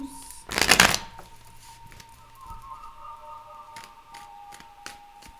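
Tarot cards riffle in one quick, loud shuffle near the start, followed by a quieter stretch of light taps and soft handling over a faint steady hum.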